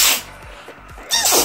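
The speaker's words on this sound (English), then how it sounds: "I need to sneeze." Two sharp, close sneezes, one right at the start and another near the end, with a quiet pause between them.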